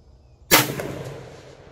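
A single rifle shot fired over Caldwell and LabRadar chronographs cracks sharply and loudly, then trails off in a fading outdoor echo.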